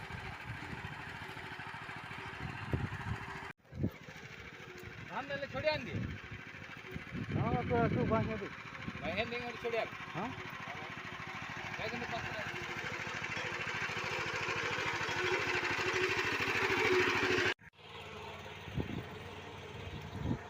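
A new mini power tiller works a paddy field, its engine running steadily throughout, with someone talking over it and a short break in the middle.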